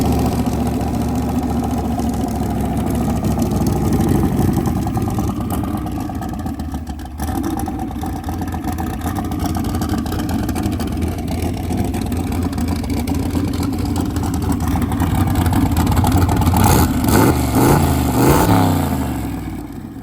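A Fox car's engine idles loudly up close, running steadily for a long stretch before a few quick revs near the end, with no talking.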